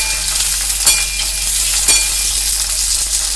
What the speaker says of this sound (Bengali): এবার পেঁয়াজটাকে ভালো করে ভেজে নেব।